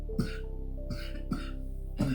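A woman coughs in short, separate bursts, about four harsh coughs spread over a couple of seconds, close and moderately loud with quiet gaps between them.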